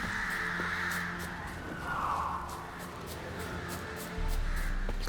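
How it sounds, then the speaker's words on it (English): Ordinary ravens caw in The Witcher 3 over a constant outdoor ambience, with hoarse calls rising and fading, followed by a low rumble near the end. "Just some random murder crows. Ordinary ravens looks like."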